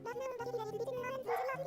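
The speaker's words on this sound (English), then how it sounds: "Is my dog barking at my stream right now?" A pet dog barks and whimpers in the background of a home livestream, a few short yips and woofs mixed under a person talking.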